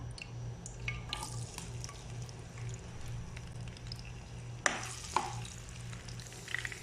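Ginger sizzles quietly in a pan as cooking for beef pares begins, a soft continuous frying hiss with a couple of louder stirring scrapes and taps, no talking.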